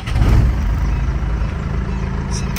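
Chevrolet D10 pickup truck with original exhaust fires up with a loud, close burst, then settles into a steady, rumbling idle.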